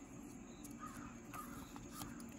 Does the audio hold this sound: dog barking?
no